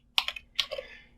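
Several quick keystrokes on a computer keyboard, a short burst of close, crisp clicks followed by a pause and a second small cluster, with no talking.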